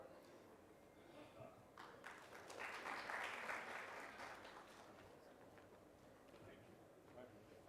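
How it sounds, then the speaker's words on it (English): Audience applause welcoming Dr. Pawan Kumar Singh of IIM Tiruchirappalli at a circular economy conclave at Manipal University Jaipur, a soft, diffuse clatter that swells in the middle of the clip and then fades, with murmuring voices underneath. "please give a huge round of applause in welcoming Dr. Pawan Kumar Singh of the IIM in Tiruchirappalli"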